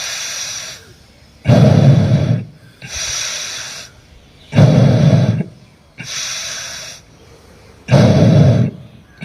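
Slow, deep pranayama yoga breathing, close and loud: long breaths alternate with quieter ones about every one and a half seconds, each followed by a short silence, with no talking.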